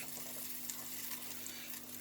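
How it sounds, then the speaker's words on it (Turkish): Steady sizzling of bread frying in butter in a pan, a continuous crackly hiss with faint pops, close and fairly quiet. "Cız diye böyle sesi duyuyorsunuz."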